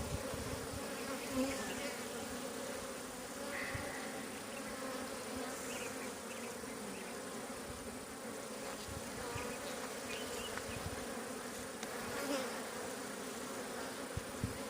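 Honeybees swarm and buzz around an open beehive during a late-March inspection with feeding and foundation comb, a dense, steady hum of many insects holding throughout with no talk.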